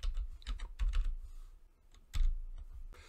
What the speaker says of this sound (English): I will simply type in my distance.